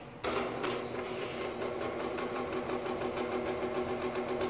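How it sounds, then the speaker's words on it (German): The cooling fan of an Elegoo Saturn 2 8K resin 3D printer starts up abruptly and then runs as a loud, steady whirring drone with a faint rhythmic mechanical pulse, close and alone. "Fangen wir aber erstmal an mit dem Lüfter. Wenn ihr den Drucker einschaltet, bläst er euch direkt um die Ohren"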